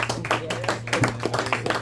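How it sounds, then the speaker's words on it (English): A short burst of clapping from a small classroom group, hands patting unevenly with a low hum underneath. "Shall we give some again a round of applause?"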